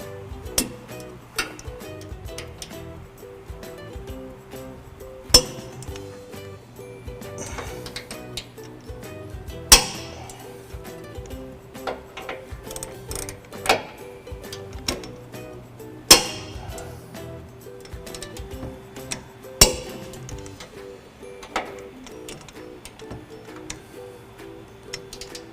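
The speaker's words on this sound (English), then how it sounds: "I've got a torque wrench here that will click when we reach that value." A torque wrench clicks as trailer hitch bolts are tightened on a 2018 Ford F-150. Sharp, isolated clicks come every few seconds among quieter ratcheting and handling noises close by, with a low hum underneath and no speech.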